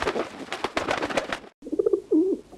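A pigeon coos in a few soft, rolling calls after a burst of fluttery rustling, close by and fairly loud, with no talking.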